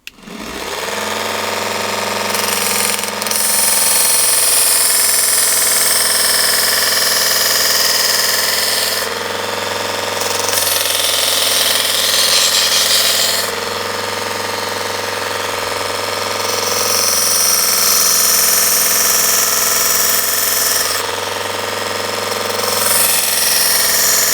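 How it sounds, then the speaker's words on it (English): A small mini belt sander grinder sharpens a knife blade held at about 20 degrees, giving a loud, steady motor whine with harsh grinding hiss that swells and eases as the blade is pressed against the belt, with no talk. "So I'm going to hit it with the sandpaper now."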